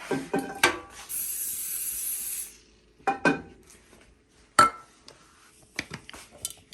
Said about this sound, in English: what I'm going to do is spray it with my baking spray